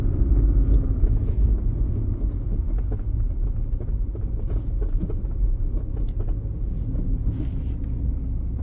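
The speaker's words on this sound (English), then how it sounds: "So we'll just drive down to the road, turn around and come back" Car driving down a road and turning around during a test drive checking a faulty rear wheel speed sensor, heard as a continuous low rumble of engine and tyres from inside, steady with no voices.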